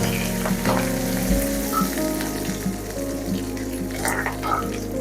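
Curry leaves and dried red chillies sizzle in hot oil in a pan, a steady close crackle with a few brief louder spits, heard alone without talk.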